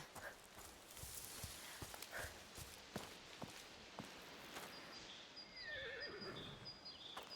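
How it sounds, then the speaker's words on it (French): Horses in the video game A Plague Tale: Requiem whinny clearly over the steady clip-clop of hooves walking, with a long neigh rising near the end against a busy game ambience. "Les chevaux."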